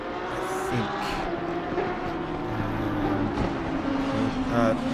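Engine drone of a Lamborghini race car circling Paul Ricard in a PC racing game, a steady mechanical hum that swells slightly near the end, with other cars audible and no clear passes.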